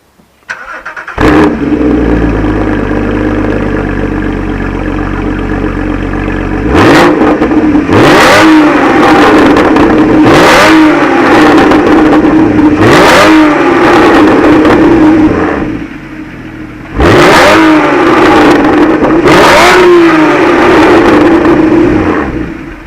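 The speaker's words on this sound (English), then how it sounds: "that was just a little taster of the new Akrapovic exhaust" A Porsche Spyder engine starts and idles loudly while still cold, then revs repeatedly in sharp bursts through a raspy Akrapovic exhaust, close by.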